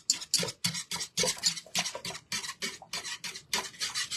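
A whisk scrapes and clatters steadily against a pot of thickening chocolate syrup made with sugar, in quick, even strokes that sound close and bright, with no talking over them.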